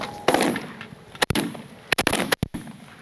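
Sharp shotgun blasts ring out on a North Dakota duck hunt, several sudden loud cracks in quick, irregular succession over outdoor background noise.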